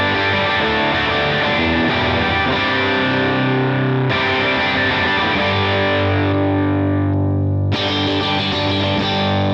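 Electric guitar on a split bridge humbucker through a Brilliant amp model with delay, playing loud sustained chords with a distorted edge, in three ringing strums that each decay before the next, no talking.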